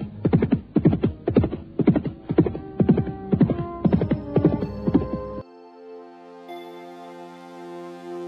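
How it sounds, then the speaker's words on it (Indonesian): Horse hooves clip-clop in a quick, steady galloping rhythm as a radio drama sound effect, loud and close, then cut off and replaced by a sustained musical tone. "melompat ke atas kuda dan pulang ke rumahnya"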